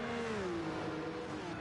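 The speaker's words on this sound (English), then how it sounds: "No, he's revving it out." A race car engine in a racing video game revs out hard and high, a steady continuous whine with the pitch sliding down slightly, loud and close throughout.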